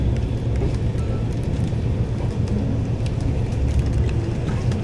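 A car rolls past close by on a road, with a steady low rumble and wind buffeting the microphone throughout and no clear voices.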